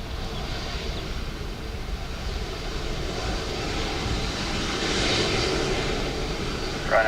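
A Ryanair passenger jet landing on runway 28 left at Dublin Airport in wet weather, heard as a steady broadband engine roar that swells slightly toward the end, with no talk.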